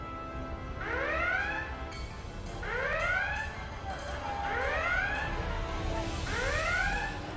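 Starship red alert klaxon from the Star Trek Resurgence video game: four loud, evenly spaced rising electronic whoops repeat over a steady background hum.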